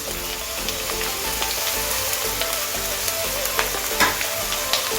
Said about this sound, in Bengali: আমি কেটে রাখা পেঁয়াজ এর মধ্যে অ্যাড করে দিচ্ছি